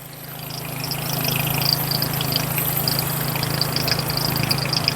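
An engine-driven gear-drive HTP spray pump runs with a steady droning hum and rattling whine, rising slightly in the first second and then holding constant.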